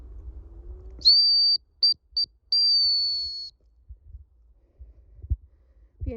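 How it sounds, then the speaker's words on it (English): A person whistles a high, clear call to bring back Dalmatians on a walk: one held note, two quick short blips, then a longer drawn-out note, followed by quiet outdoor ambience. "just going to whistle them back"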